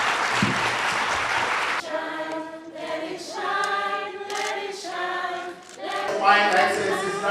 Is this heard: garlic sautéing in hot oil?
no